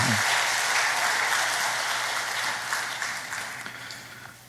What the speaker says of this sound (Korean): 할렐루야 성가대가 마땅히 이렇게 격려를 받을 만하고 또 뜨거운 여름철에 계속 잘 수고하시라고 우리 격려의 박수 한번 드리도록 하겠습니다